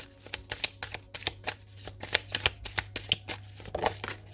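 Tarot cards are riffled and shuffled in quick, rhythmic flicks close to the listener, a steady patter of card snaps over a low background hum.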